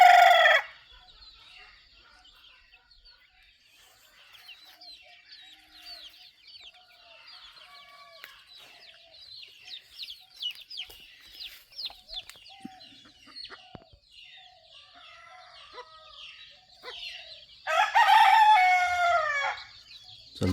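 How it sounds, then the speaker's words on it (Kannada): Free-ranging native country chickens, a mother hen with her chicks and a rooster, give soft clucks and cheeps through the quiet, with loud crowing bursts at the start and near the end. "ಮರಿಗಳನ್ನ ತಾಯಿ ಕೋಳಿ ಈ ಥರ ಮೇಯಿಸ್ತಾ ಇರುತ್ತೆ"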